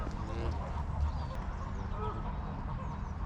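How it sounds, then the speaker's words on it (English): Geese honking outdoors: a few short, fairly close honks stand out over steady background noise, with a brief louder call partway through. "I love the vocalisation these geese are making."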